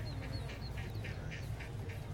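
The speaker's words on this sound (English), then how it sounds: "Can you put the ducks up full?" Ducks quack in a played video, a steady run of evenly spaced nasal quacks, about three per second, heard through a speaker over a constant low hum and room noise.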